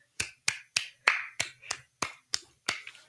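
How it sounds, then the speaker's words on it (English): Close, dry claps from a single pair of hands come in an even rhythm, eight sharp claps about a third of a second apart with brief silences between them. "This is what clapping tends to sound like."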